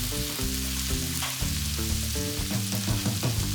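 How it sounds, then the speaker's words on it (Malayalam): Onions and chopped tomato sauté in a pan for a chickpea channa kuruma, giving a steady sizzle and frying hiss that runs throughout, with background music alongside. "ഇനി നമുക്ക് അരിഞ്ഞു വെച്ചിരിക്കുന്ന ടൊമാറ്റോ കൂടിയിട്ട് നല്ലവണ്ണം സോട്ട് ചെയ്തെടുക്കാം"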